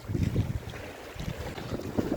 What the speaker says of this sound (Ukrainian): А тут вітер задуває